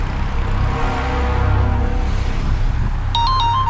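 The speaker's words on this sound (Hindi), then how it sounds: "अरे फोन आ रहा है।" A mobile phone starts ringing near the end with a short repeating electronic melody of bright beeps, cutting through a dense rumbling music bed in a TV drama scene.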